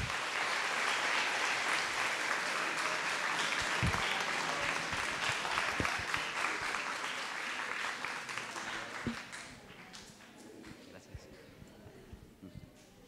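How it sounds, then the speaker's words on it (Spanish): Audience applause at an international neurology, neurosurgery and neuropsychiatry congress greets a speaker, a dense steady clapping that holds strong for about nine seconds, then thins and fades to scattered claps at the end. "Un aplauso, por favor."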